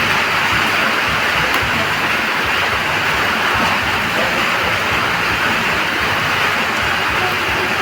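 Steady rain pours down outdoors in a rural village, a dense even hiss that holds unbroken and fairly loud throughout with no talking.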